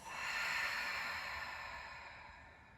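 A single long breath let out through the mouth during a power yoga session, a soft, airy exhale that swells quickly and then slowly fades over a few seconds, heard close and alone.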